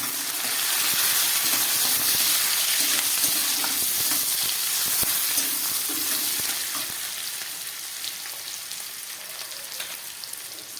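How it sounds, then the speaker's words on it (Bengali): Onion and tomato frying in a pan for a pointed gourd curry, a steady close sizzle with occasional stirring scrapes that eases slightly toward the end. "পেঁয়াজটা আর টমেটোটা খুব ভালো করে ভেজে নিলাম।"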